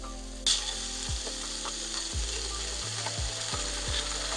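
Chicken skewers sizzle steadily in a hot pan, a broad close frying hiss with low clicking and scraping as they are turned with tongs.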